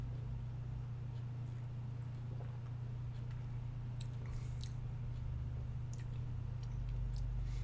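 Someone sips A&W Mad Dog, a swamp-water mix of soda, with soft slurping, swallowing and mouth noises over a steady low hum and faint clicks, close to the microphone and with no talking.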